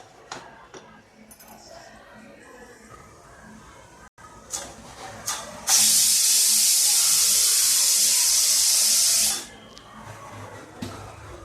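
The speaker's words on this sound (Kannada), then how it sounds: "ಈಗ ಕುಕ್ಕರ್ ಮುಚ್ಚಳ ಮುಚ್ಚಿ ಒಂದು ಸೀಟಿ ಬರೆಸ್ಬೇಕು ರೀ" A pressure cooker cooking chicken releases a loud, sustained whistle of steam lasting about four seconds, preceded and followed by quieter clicks and light kitchen clatter.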